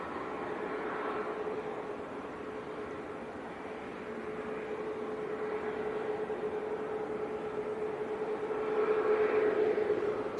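An Etihad Dreamliner comes in to land at Manchester Airport, heard as a continuous, broad jet roar with a steady whine that slowly grows louder toward the end.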